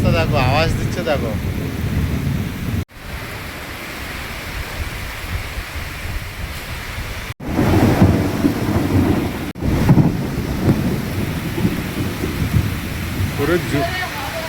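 A thunderstorm over open land brings steady rain and wind-blown microphone noise, with low thunder swelling in the middle, several brief dropouts, and faint voices talking at the start and end.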